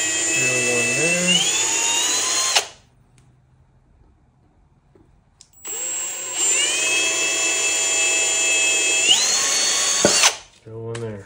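Power drill boring into wood while building a wooden step stool for a 1937 Pierce Arrow Travelodge trailer: two loud, steady whining bursts of a few seconds each, separated by a quiet pause, with a brief voice at the start and end.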